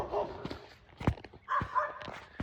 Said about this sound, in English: dogs are barking across the street